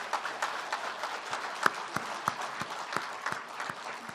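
An audience applauds a lecture guest, a steady round of clapping at moderate distance with sharp individual claps standing out, sustained throughout without talk.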